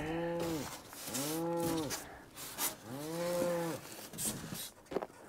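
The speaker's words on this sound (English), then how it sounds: "Cows are moving out to pasture." Cattle moo three times as cows move out to pasture: long, drawn-out, fairly close calls separated by short pauses, with faint outdoor noise between them.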